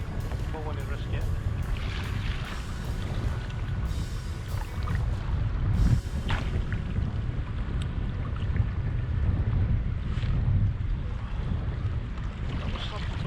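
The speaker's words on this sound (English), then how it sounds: "if this wind freshens any more, I'll need to call it a day" Strong wind buffets a fishing boat at sea off Arbroath, Scotland, a continuous roaring gusty rush with microphone wind noise, water sloshing and occasional knocks and rattles on the boat, with a voice speaking over it.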